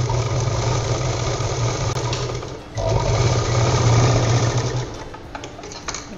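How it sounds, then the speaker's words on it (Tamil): A sewing machine runs steadily, stitching fabric for a handmade purse cut from a blouse piece. Its loud, even motor hum and rapid needle clatter dip briefly midway, then continue and ease off near the end. "இங்கேருந்து இங்கே வரைக்கும் ஒரு தையல் போட்டு எடுத்துக்கலாம்"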